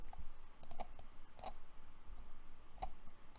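Quiet, scattered clicks of keys on a computer keyboard, a handful of sharp taps spaced irregularly against a low background hum.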